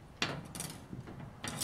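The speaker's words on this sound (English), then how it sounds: "by using a pair of fluting pliers, if I just crimp or flute in a couple areas" Fluting pliers crimp an aluminum wing rib on a RANS S-21 Outbound kit aircraft, giving a few close, short metallic crunching squeezes separated by brief pauses, with no talking.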